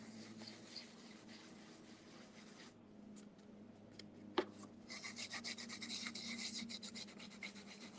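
Excess gilding leaf being rubbed off a surface, a faint, steady dry rubbing and rasping, with one sharp tap near the middle and a brighter, busier scrubbing toward the end.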